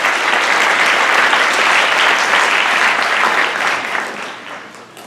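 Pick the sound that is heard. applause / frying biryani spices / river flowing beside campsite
applause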